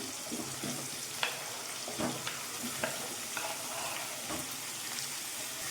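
Tomato and pumpkin fry in a pan with a constant hissing sizzle, broken by soft, evenly spaced scrapes of a spoon stirring, close up and quiet, with no talking.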